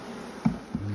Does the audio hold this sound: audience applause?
no